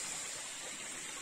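Stream water runs under stones in the Uch-Kosh gorge near Yalta, a continuous, even hiss of flowing water heard close and alone, with no voices.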